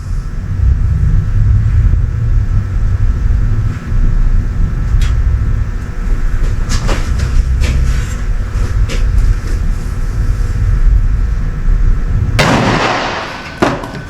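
A single loud gunshot cracks out near the end, fired from a revolver just after its hammer is cocked, rising sharply above a steady low rumble that fills the rest of the clip.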